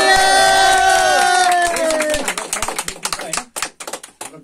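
Clapping at a cake-cutting celebration, starting under loud cheering and singing voices, then breaking into sharp, irregular claps from a small group nearby.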